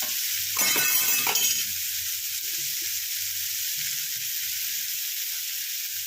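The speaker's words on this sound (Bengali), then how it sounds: "যাতে পেঁয়াজটা একটু ভালো করে ভেজে দেওয়া হয়, নরম হয়ে যায়।" Onions with salt fry in a pan, a steady close sizzle running throughout, with a brief burst of stirring scrapes near the start and faint background noises.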